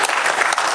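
Audience claps at a patriotic poetry recital, a brief dense burst of applause from a crowd, loud and close.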